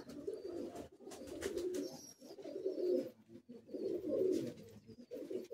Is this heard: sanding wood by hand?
no